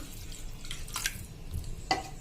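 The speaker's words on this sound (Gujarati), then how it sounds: "અડધો ગ્લાસ જેવું પાણી વધારે એડ કરશું" Water poured into tomato puree in a cooking pan on a gas stove, with quiet splashing and a few brief liquid bursts in an otherwise calm kitchen.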